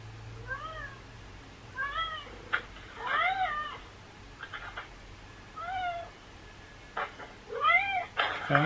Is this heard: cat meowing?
yes